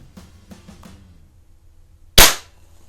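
A BSA Scorpion .177 pellet pistol fires once inside a garage, a sharp loud crack with a short decaying tail, preceded by faint clicks and quiet handling sounds.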